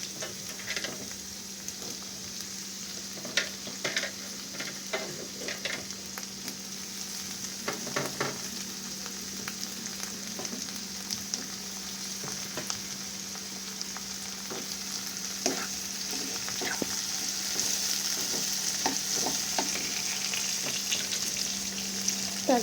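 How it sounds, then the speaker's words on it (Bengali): Chopped vegetables and tomato stir-fry in a pan for a spicy semolina dish, a steady close sizzle running throughout with frequent light scraping stirs and clicks, no voices. "তারপর ভালো করে সব সবজিগুলো একসাথে মিক্স করে নেব"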